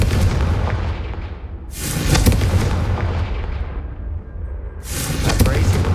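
A Confringo fire spell blasts in Hogwarts Legacy on PS5 with a loud, booming whoosh. A second burst follows a few seconds later, both over a steady rumbling background.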